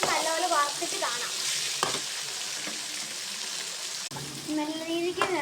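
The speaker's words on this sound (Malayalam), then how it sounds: "നല്ല രീതിക്ക് നിർത്താതെ ഇളക്കി കൊടുക്കണം" Potatoes frying in a pan and being stirred, a steady close sizzle with intermittent scraping strokes of the spoon; a voice talks briefly over the cooking.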